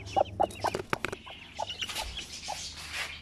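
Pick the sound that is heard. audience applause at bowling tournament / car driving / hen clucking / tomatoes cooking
hen clucking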